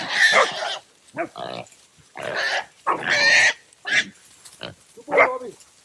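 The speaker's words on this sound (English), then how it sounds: "There's probably about 6 pigs the dogs are going after." Wild boar squeal and grunt in loud, harsh bursts as hunting dogs catch them, about six short outcries broken by brief gaps, close and raw.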